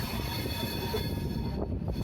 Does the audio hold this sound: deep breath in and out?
no